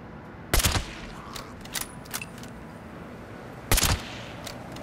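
Gunfire in the video game Fallout 76: two sharp, loud bursts of shots a few seconds apart, with a couple of smaller pops between, over a quiet background.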